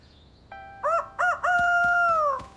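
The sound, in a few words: chicken clucking in a video game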